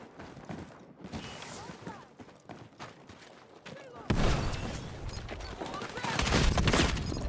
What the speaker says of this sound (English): That is an RPG.